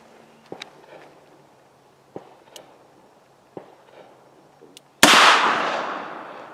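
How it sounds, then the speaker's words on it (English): A .38 Special revolver fires into a block of ballistic gel, one sharp, loud, close blast that rings out and decays, preceded by several soft scattered taps and clicks. "This is my Indiana Jones 38 special gun."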